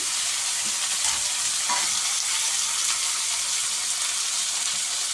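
Tamarind, cleaned coriander and other chutney ingredients frying in a pan give a steady, even sizzle with soft stirring, close and alone with no voices.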